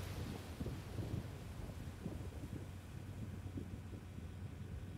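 Thunderstorm in the Roblox game Twisted, a low steady rumble of rain and wind with faint rolling thunder throughout, quiet and distant with no voices.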